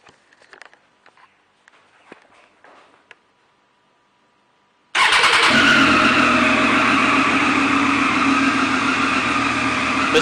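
A 2014 Triumph Daytona 675R sport motorcycle on a stock exhaust idles loud and close, cutting in abruptly halfway through after a few seconds of quiet handling noise and holding a steady, rough drone to the end.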